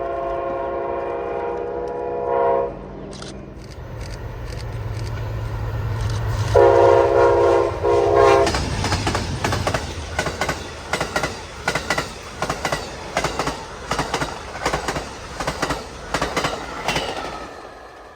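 An Amtrak passenger train passes through Lakeland, Florida. A loud, sustained horn sounds, then a deep engine rumble builds as the train goes by close, followed by a steady series of rhythmic clickety-clack wheel beats over the rails.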